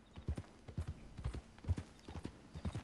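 Horse hooves in Red Dead Redemption 2 clip-clop in a steady walking rhythm, soft paired hoofbeats repeating evenly and fairly quietly, with no talk.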